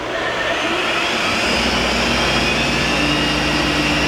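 A Kellenberger 1000U OD cylindrical grinder's grinding wheel spins up into a loud, steady broadband whine and rush of motor noise, constant throughout with no voices.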